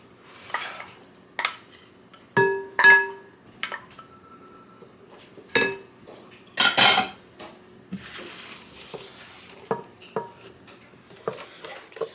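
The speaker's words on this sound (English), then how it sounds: "Just give that a stir." Spoon stirring banana bread batter in a bowl, with repeated sharp clinks and scrapes of metal against the bowl in irregular bursts, close up and in a quiet kitchen.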